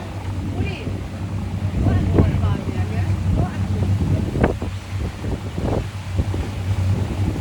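Boat ride on open water with a steady low engine drone and wind buffeting the microphone, continuous and fairly loud throughout, with occasional knocks and splashes and some voices mixed in.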